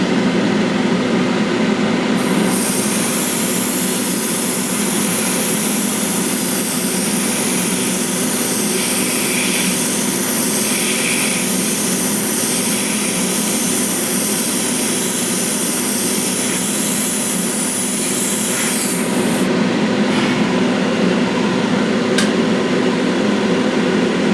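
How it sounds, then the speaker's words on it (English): An airbrush lays a wet gloss clear coat onto a scale model, giving a steady, close hiss that holds for most of the stretch over a constant compressor-like drone, with no talk. "And that's how you spray a wet coat."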